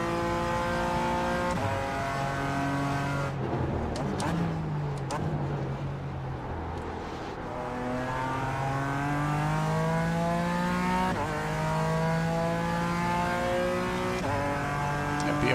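In a racing video game, a GT4 race car engine revs loudly and steadily, its pitch climbing and then dropping sharply at each gear shift through a series of upshifts and downshifts.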